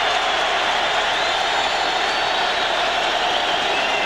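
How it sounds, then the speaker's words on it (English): Roaring crowd at a football stadium during the Denver versus Indianapolis AFC Wild Card playoff game, a steady dense wall of cheering and noise that never lets up. "This crowd has been up-tempo since the opening kickoff."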